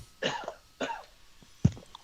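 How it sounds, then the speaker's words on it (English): A person coughs three times in short bursts, fairly close and clear, with quiet pauses between each cough and no talking. "Sorry for the coughing"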